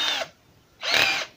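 A drill runs a bolt extractor bit into a damaged bolt in two short bursts of whirring, separated by a brief pause, with no talking.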